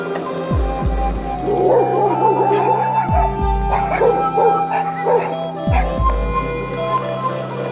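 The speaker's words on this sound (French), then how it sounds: "C'est les chiens anglais, là, je sais plus comment on les appelle." English hounds bark and yip repeatedly nearby, a pack giving loud overlapping bow-wows and whimpers in irregular bursts, with a voice briefly in the background.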